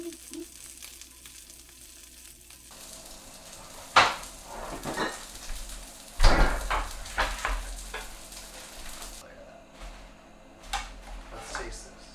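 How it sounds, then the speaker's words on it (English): Spam slices hiss and sizzle in a hot skillet while a voice talks over them, with a few sharp clatters of utensil on pan breaking through the steady frying noise. "slice it into 3/4 inch or 1/2 inch slices and sear it up in a hot"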